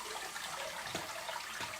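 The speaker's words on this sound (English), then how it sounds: "I like to rinse my beans because it's the water that makes you fart, not the beans." Running water splashes and swishes as canned beans are rinsed by hand in a kitchen, a continuous close wash of sound with a couple of soft sloshes.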